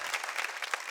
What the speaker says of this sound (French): En bondé, applaudissez un peu.